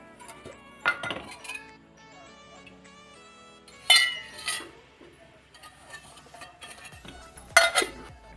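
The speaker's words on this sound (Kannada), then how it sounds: "ಇವಾಗ ನಾನು ಸ್ಟವ್ ಹಚ್ಚಿ ಪಾತ್ರೆ ಇಟ್ಟಿದ್ದೀನಿ." A metal cooking pot is handled and set down on a lit stove, giving several sharp clinks and clanks of metal, spaced across the clip with short ringing tails and quieter rattles between them.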